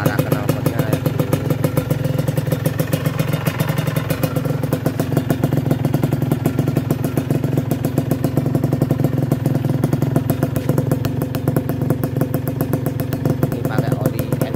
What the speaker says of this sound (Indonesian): suara knalpotnya kayak gini